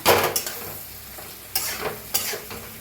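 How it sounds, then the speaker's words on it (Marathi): Soft sizzling from a pan of aubergine and potato, broken by a few bursts of scraping as a spatula stirs the contents, with no talking. "मिक्स करून घेऊया भाजीला"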